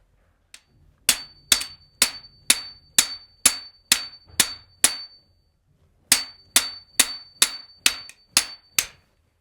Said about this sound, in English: we've just started there to open up the end of the pipe